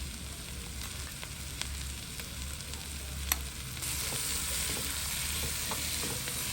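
Garlic and chili powder paste sautéing in oil, a steady close sizzle with soft stirring scrapes, growing slightly louder partway through; no talking.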